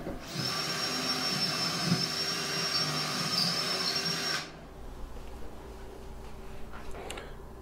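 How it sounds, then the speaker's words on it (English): A power drill bores holes in a CNC controller enclosure through a doweling jig, giving a loud, steady high whine for about four seconds before it stops, leaving quiet handling noise. "Then I'll use my doweling jig to drill a hole for the bolt that'll go through the top to the barrel"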